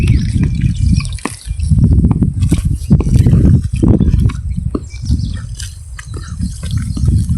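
Water sloshes and drips irregularly up close, with lapping, splashing sounds of animals drinking from a river and a low steady background rumble.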